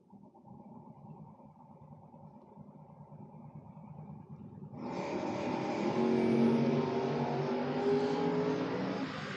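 Drag race launch between an '84 Porsche and a Vega: low engine rumble at idle, then a sudden loud surge of broadband roaring as the cars take off, sustained and full through the end.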